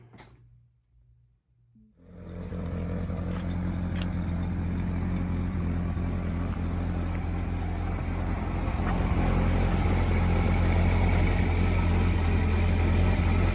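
A C6 Corvette ZR1 engine runs steadily while driving, a loud, continuous low rumble that starts abruptly after a near-silent opening second and holds without a break.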